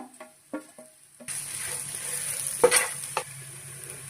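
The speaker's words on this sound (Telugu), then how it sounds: "ఇప్పుడు మనం వేయించుకున్న దొండకాయ ముక్కలు అయితే వేస్తున్నాను" Fried ivy gourd pieces drop into a pan: a few soft clatters, then a sudden loud sizzle and stirring scrapes with the odd sharp clink, close and alone.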